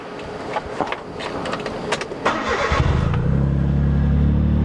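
A Suzuki Cappuccino's engine cranks briefly and catches, then settles into a steady, low idle hum that carries on to the end, with some faint clatter before it.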